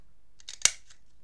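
Scissors cut a scrap of watercolor paper into small circles, giving a few faint snips followed by one sharp, close crisp cut in a quiet room.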